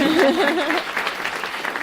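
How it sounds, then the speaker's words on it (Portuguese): A studio audience at a Brazilian talk show claps for a guest in a brief, steady burst of applause under a speaking voice. "Palmas para ela, gente."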